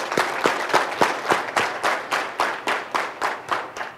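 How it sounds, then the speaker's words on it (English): An audience at an energy and construction summit keynote claps together in unison: roughly a dozen sharp, evenly spaced claps in a steady rhythm, loud and close, with no talking. "I want everyone to applaud at the same time in unison"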